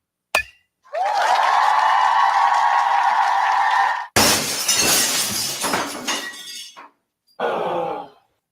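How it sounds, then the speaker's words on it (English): A car windshield or car window being broken in an auto glass radio ad: a loud smash followed by a long ringing shimmer, then a second harsh shattering crash and a brief final tinkle of glass. "When the thrill of playing ball turns into the agony of a broken windshield or car window"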